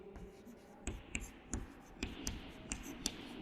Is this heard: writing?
yes